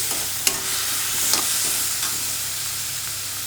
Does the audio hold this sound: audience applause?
no